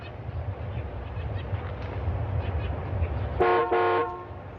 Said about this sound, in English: Just because you honked your horn again doesn't mean we'll get to you faster.